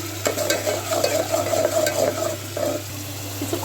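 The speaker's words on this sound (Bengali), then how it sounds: "তেলে দিছি পেঁয়াজ রসুন দিয়ে এখন নাড়াচাড়া করবো।" Onion and garlic frying in oil in a pot, with a continuous sizzle and a spoon stirring and scraping through it, plus a low steady hum underneath.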